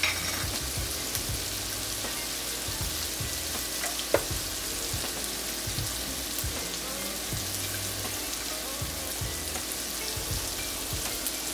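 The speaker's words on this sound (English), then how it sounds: "I want to cook this for about 5 minutes until all of the ground beef is cooked" Ground beef seasoned with garlic powder, onion powder and parsley fries in a pan with a dense, continuous sizzle, broken by light scraping and stirring knocks and one sharp tap near the middle.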